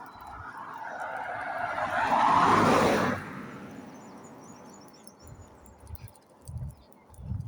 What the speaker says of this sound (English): Gotta stop, there's a car coming.